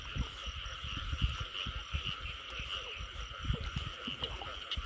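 Field frogs croak in a rice paddy in Vĩnh Long early in the season, a dense, overlapping chorus of loud, rapid throaty pulses close by, with a steady high insect-like drone behind them.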